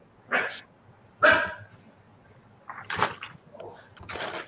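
A dog barks in a few sharp bursts, spaced apart with short pauses, fairly close and loud against a quiet background.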